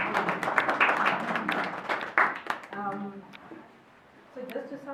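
An audience at an early and intermediate school association gathering applauds, dense clapping for about three seconds before tapering off, with a voice speaking over and after it.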